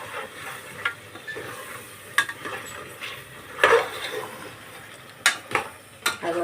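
Spice paste is stirred into a curry in a pot, with close, irregular scraping and clinks of a utensil against metal over a low simmering sizzle, several sharp knocks standing out.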